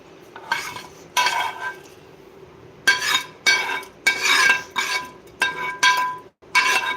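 Tempering is stirred into curd rice in a metal vessel, giving bursts of clinking spoon-on-pot scraping in an irregular rhythm, close and fairly loud with short pauses between strokes; no talking.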